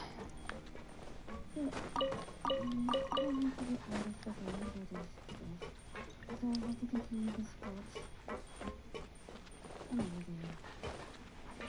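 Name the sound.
dog whimpering in video game Genshin Impact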